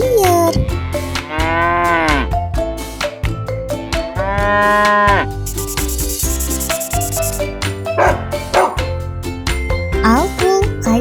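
A cow moos several times in long, drawn-out calls over a busy children's-song backing with jingling tones, the lowing rising and falling loudly through the music.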